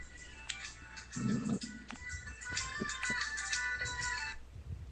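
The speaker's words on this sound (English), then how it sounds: "I was getting a phone call from somebody who probably thinks I'm the last guy who had this phone number" A phone rings with an incoming call, a bright repeating electronic melody playing for several seconds at moderate volume. A brief thump sounds partway through.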